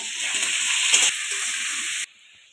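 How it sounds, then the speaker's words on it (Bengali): Cut potatoes with salt and turmeric frying in a pan, giving a loud, bright continuous sizzle with a brief stirring rustle, then cutting off sharply to near silence. "আলুটা ভাজতে ভাজতে গুঁড়ো মশলাগুলো একটু জল দিয়ে আমি ভিজিয়ে রাখবো"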